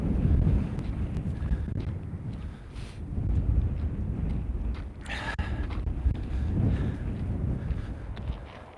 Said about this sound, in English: very, very windy today.